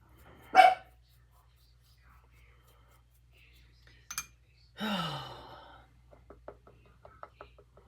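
A dog barks indoors in sparse, quiet bursts: one sharp bark early, a longer bark a few seconds later, then a string of small clicks and soft breathy sounds against near silence.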